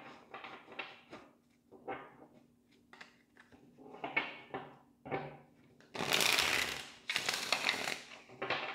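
Playing cards being shuffled in several quick riffling bursts, crisp and close, with brief pauses between runs and the loudest flurries near the end.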